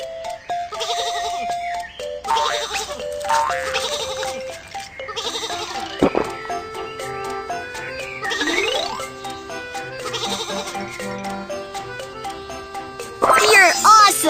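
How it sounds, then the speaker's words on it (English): Cartoon sheep bleat several times on a train track in a kids' train video game, the calls bright and repeated over cheerful game music and jingles. "Some sheep are on the train track."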